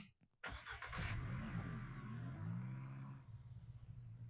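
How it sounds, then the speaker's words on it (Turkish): A car in the Ranch Simulator game starts up and moves off, with a short burst of clicks followed by a steady, close mid-range engine drone that rises and falls in pitch and fades slightly toward the end. "Hareket bakayım arabayı."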